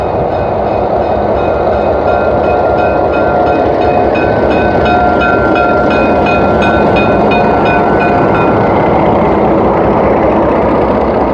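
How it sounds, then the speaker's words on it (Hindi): A narrow gauge train approaches in Skagway, Alaska, with a loud, steady rail rumble, a droning engine and bright squealing tones from the wheels that persist for several seconds. No one speaks. "तो जो ट्रेन उस वक्त खड़ी थी वो सामने से आ रही है।"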